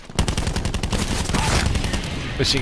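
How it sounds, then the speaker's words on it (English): Rapid automatic gunfire in Call of Duty Black Ops 4 Blackout, a dense close burst of shots rattling steadily for a couple of seconds with a voice faintly underneath. "They will just stand there trying to shoot each other in the head"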